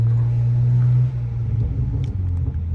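A 2007 BMW 335i fitted with catless downpipes, a deep, loud steady exhaust drone close by that drops after a second into a lower, rumbling burble with uneven pulses.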